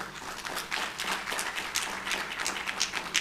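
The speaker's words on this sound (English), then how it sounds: "let's give our panelist and our moderator a hand of applause" An audience at a live panel discussion on protecting Black culture and music claps for the panelists and moderator, a steady, faint, distant patter of many hands with no pause.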